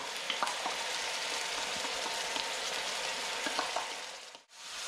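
Squid fries in a pan with XO sauce added, a dense, loud, steady sizzle with scattered pops and crackles running close and continuous, dipping briefly near the end; no one talks.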